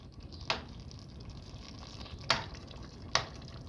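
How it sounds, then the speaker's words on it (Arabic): Kofta being stirred in tomato sauce in a pan, a soft steady simmer and sizzle broken by three sharp scrapes or knocks of the spoon against the pan. "زي ما انتم شايفين اهو بنفضل نقلب فيها كده"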